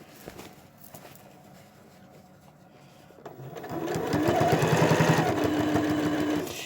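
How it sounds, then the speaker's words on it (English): A sewing machine stitches binding onto a quilt, starting with soft scattered handling sounds before the motor kicks in around the midpoint as a loud, close, steady whirring run of rapid needle strokes. "stitch as close as I can to that corner, pivot, and take the pin out"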